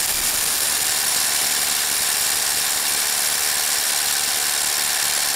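A cordless Ryobi One+ 18-volt brushless SDS Plus rotary hammer, model P223, drills into rock with a loud, steady, unbroken grinding roar that holds constant throughout, close by and without talk.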